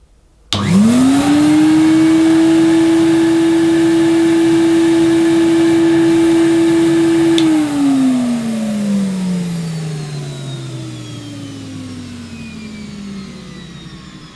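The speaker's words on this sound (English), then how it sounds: "Not too bad for a 600 watt vacuum cleaner made in 1977" A 1977 Hoover 427 vacuum cleaner with a 600 watt motor switches on abruptly, whines up to a steady high-pitched roar for several seconds, then is switched off and its motor winds down slowly.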